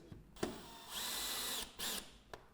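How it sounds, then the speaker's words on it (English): A power drill driving screws into an aluminium roof window frame: two sustained whirring runs, the first longer, between sharp clicks and taps, fairly faint and alone. "just work your way along the window, being careful not to over tighten the screws"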